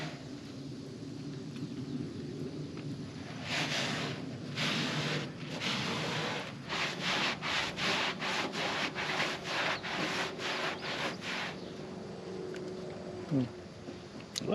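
A microfiber rag rubs product onto the surface of a burnt Mercury Comet GT under rebuild, in bursts of brisk back-and-forth swipes that grow into a quick, steady rhythm, close by, with a low background hum underneath.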